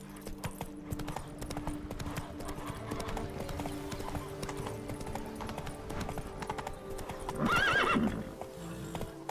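Roach, a horse in The Witcher 3, gallops with rapid, even hoofbeats close by, over background music, then lets out a loud whinny near the end.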